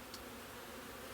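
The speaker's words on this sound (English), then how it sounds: "I think we've got foreign bees that are coming in and robbing this hive" Faint, steady buzzing of honeybees at a hive entrance, foreign bees robbing the hive, a continuous low drone with no talk.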